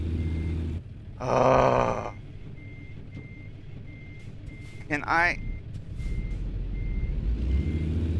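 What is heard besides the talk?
car reversing beeps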